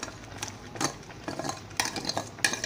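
A spoon stirs powdered ground coconut into a large pot of chicken curry, giving a few irregular scraping and clinking strokes against the metal, close and moderately loud, with no talking.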